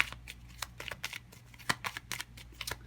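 Tarot cards are shuffled and drawn, making a quick run of crisp, close flicks and snaps in an uneven rhythm, with no talking over them.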